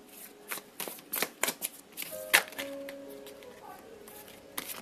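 Tarot cards being shuffled by hand close up, a run of quick riffling bursts in an uneven rhythm, with a voice talking lightly in the background.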